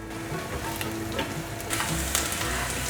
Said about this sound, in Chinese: 放入香菇炒香。